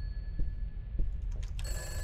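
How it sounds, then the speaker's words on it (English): A telephone rings in the horror video game Peter's House, a steady electronic ring with a bright sustained tone and brief pulses, close and clear with no speech. "Let's answer the phone."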